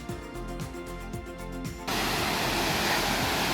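Laurel Fork Falls, a large waterfall on a trail, roars as a dense, steady rush that begins faint with rhythmic pulses and then swells abruptly into loud, continuous white-noise spray.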